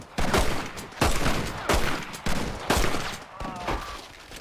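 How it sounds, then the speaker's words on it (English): Repeated bursts of gunfire in a gang shootout on a ranch in the video game Red Dead Redemption, with five loud cracking volleys roughly every half second to second, each decaying into a reverberant tail. "This guy starts shooting someone else."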